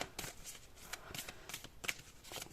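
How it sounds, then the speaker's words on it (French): Thick, brand-new tarot cards are shuffled close by in a series of quick, crisp riffling strokes, about eight soft bursts in a steady rhythm, fairly quiet and without talk. "c'est des cartes qui sont très épaisses et en plus elles sont neuves, je vous avoue qu'elles ont du mal un petit peu à sortir"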